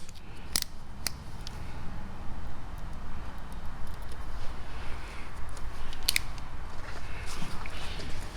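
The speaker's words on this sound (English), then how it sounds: "We got just a little bit of excess vinyl right up here at the top corner, so I'm going to trim that off" Scissors snip excess black vinyl tint film from the top corner of a car tail light, giving a few distinct close crisp cuts over a steady low background hum.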